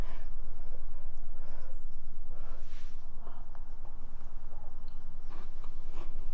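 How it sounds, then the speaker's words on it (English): Crunchy chewing of crackers from a pineapple casserole close to the mouth, irregular crisp bites and munching over a steady low background hum, no talking. "The crackers are crunchy."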